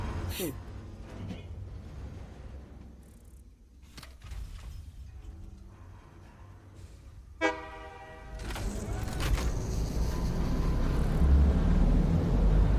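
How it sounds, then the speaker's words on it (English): Train in the factory-building video game Satisfactory, heard as a rumbling rail run with a sharp horn toot midway, then rising louder engine and track noise toward the end, with a voice talking over it. "I don't want to have the train leave me behind."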